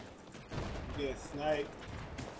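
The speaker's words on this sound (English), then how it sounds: "They're shooting at me everywhere." Gunfire in the video game Battlefield 4, bursts of shots and explosions blending into a dense, continuous battle din with a couple of louder swells, with voices talking over the fighting.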